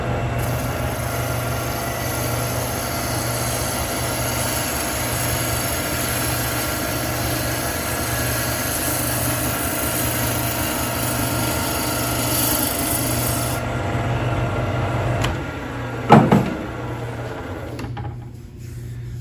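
A woodturning lathe spins a wood billet held in the chuck between centers while a gouge takes a single truing cut, giving a steady rubbing, rasping drone with a pulsing motor hum that ends in a brief sharp knock and then quiet.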